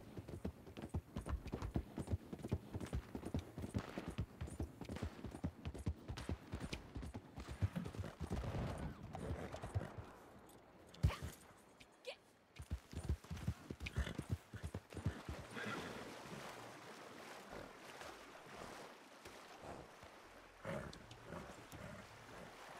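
A horse gallops in the Red Dead Online video game, with rapid, steady clip-clop hoofbeats that sound fairly faint. The hooves break off briefly partway through, then pick up again.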